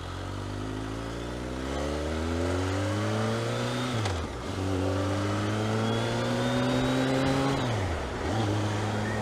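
A BMW K1200S motorcycle engine revs loudly and steadily, climbing in pitch, then dropping as it shifts gear, close by.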